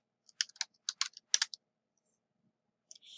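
A computer keyboard clicks in a quick, faint burst of keystrokes while a word is entered in an Excel cell, then goes quiet before a couple of last taps.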